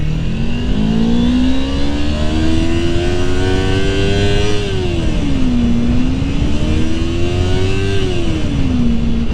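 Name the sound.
Kawasaki Ninja 250 sport motorcycle engine revving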